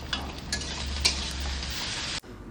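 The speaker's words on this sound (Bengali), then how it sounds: "পেঁয়াজটা এবার লাল লাল করে ভাজতে হবে।" Onions frying in oil in a pan, a steady close hiss of sizzling with a few faint utensil clicks, ending abruptly near the close.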